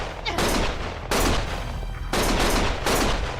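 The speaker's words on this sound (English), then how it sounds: "Stop shooting!" Gunfire in the video game Lost Judgment: loud, dense volleys of rapid shots in three sustained bursts with brief gaps, close and overwhelming, with no talk.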